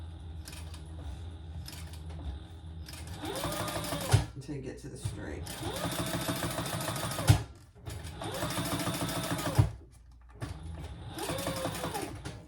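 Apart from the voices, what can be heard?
sewing machine stitching leather waist pack zipper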